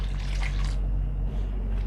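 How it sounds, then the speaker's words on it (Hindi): Water from a glass poured into a pressure cooker pot of bitter gourd and meat curry, a brief steady splashing pour in the first part that then trails off to a low hum. "अब इसमें डाल देंगे 1 गिलास पानी।"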